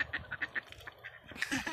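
A duck quacks in a rapid run of short, close, fairly loud calls, with louder honking cries toward the end amid faint background rustle.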